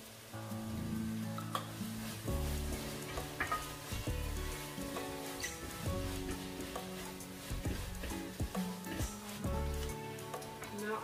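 Seasonings and two tablespoons of tomato paste sizzle and fry in a pan while being stirred, a steady close crackle running throughout with occasional utensil scrapes, made while preparing a lasagna meat sauce.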